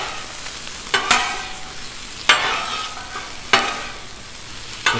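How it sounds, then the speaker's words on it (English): Garlic sizzles on a Blackstone griddle, a constant hiss broken by three sharp bursts of spatula scraping and stirring, close and fairly loud, with no voices. "Gonna throw some garlic right in there. Let that stuff get going."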